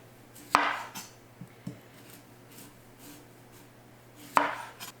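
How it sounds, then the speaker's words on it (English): Potatoes sliced with a knife on a cutting board: two sharp, loud chops about four seconds apart, with a few softer knocks between them in a quiet kitchen. "I'm going to continue to slice these up"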